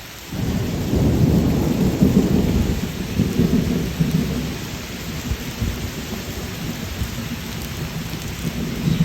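Heavy rain pours down steadily with a dense, roaring wash of noise, close and loud throughout, without any voices.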